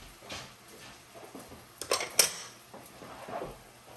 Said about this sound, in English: Let me go get a bowl here.